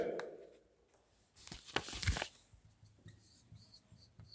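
Pen or marker strokes scratch across a board in a short cluster of brisk, faint rubbing sounds, close up, with a quieter stroke or two afterward and no speech.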